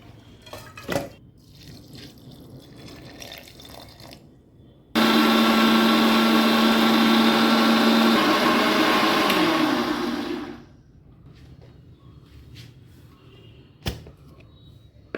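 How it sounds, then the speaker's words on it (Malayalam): A mixer grinder's jar grinds soaked rice into palappam batter in a loud, steady whirring burst lasting about five seconds, framed by quieter kitchen clinks and drips before and after. "മിക്സിയുടെ ജാറിൽ അരി ആട്ടിയെടുക്കുമ്പോൾ ഈ മാവ് ചൂടാവും"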